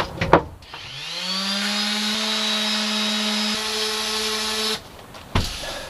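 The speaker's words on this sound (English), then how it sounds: "There's also some more sanding that has to happen to this planking" A power sander with sanding discs works sapele wood planking on a wooden boat under restoration, a loud steady whine that spins up, holds for about four seconds with brief bumps, then winds down, with knocks around it.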